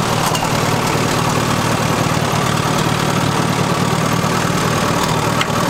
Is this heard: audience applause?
no